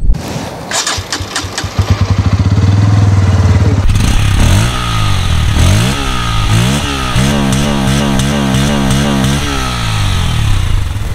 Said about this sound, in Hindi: अभी आप लोगों को एग्जॉस्ट नोट भी सुना देते हैं कैसा है